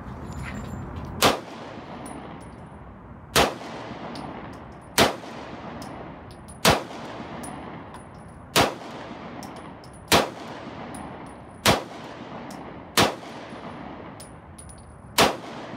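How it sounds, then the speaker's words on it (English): An American Tactical HGA FX9 1911 GI 9mm pistol fires nine loud, sharp shots at a steady, unhurried pace of roughly one every one and a half seconds, each with a short ringing tail. "Very soft shooting pistol."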